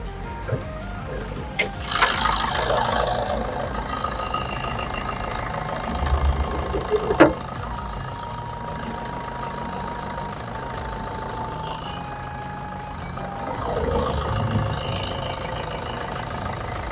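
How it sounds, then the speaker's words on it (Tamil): A diesel engine in a 2010 Maruti Swift Dzire VDI idles steadily with a low rumble and a faint rhythmic knock, and a sharp click sounds briefly partway through. "இன்ஜின் நாய்ஸே நல்லா இருக்கு வண்டி."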